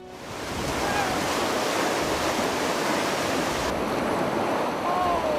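Whitewater of the Teton River in Teton Canyon, a steady loud roar that swells in over the first second and holds constant, with faint bird chirps above the rush.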